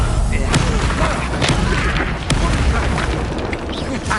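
Confringo blasting spells erupt in Hogwarts Legacy as dense, loud booms and crackling bursts within continuous combat noise, with a voice shouting over the blasts.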